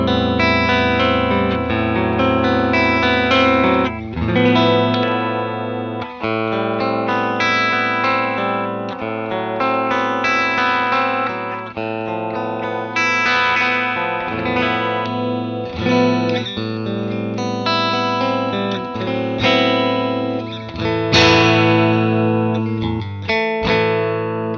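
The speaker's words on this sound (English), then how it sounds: "Listen to that neck pickup." Dense, overdriven chording on a Jazzmaster electric guitar using the neck pickup with effects, warm and swirling with chorus-like shimmer, strummed continuously and loud throughout.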